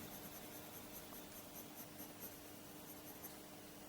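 Pencil shading a drawing on paper, a soft continuous scratching with faint repeated strokes, close and quiet, with no talking.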